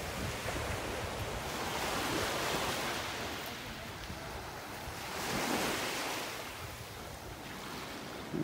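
Ocean waves roll onto a North Naples, Florida beach in slow swells, with an offshore breeze adding a continuous wind rush over the surf.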